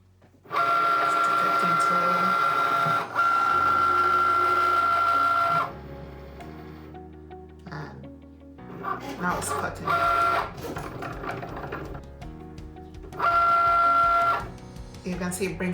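A Cricut cutting machine cuts paper in loud, whirring motor bursts with a steady high whine, interspersed with clicking carriage movements and pauses; a person talks intermittently over it.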